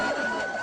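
An ambulance siren wails as emergency vehicles rush to the scene of an explosion at the Iranian ambassador's home in Yemen, a loud, brief, steady tone with no talk over it.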